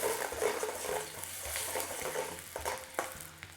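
Diced onion sizzling and frying in a hot pan for a quick chicken balti, with soft scraping stirs and small clinks of the utensil against the pan over a steady close crackle.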